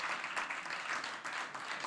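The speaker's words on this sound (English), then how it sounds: "let's give him a round of applause" A short burst of applause from an audience at a civic award event, a steady wash of many hands clapping at moderate volume.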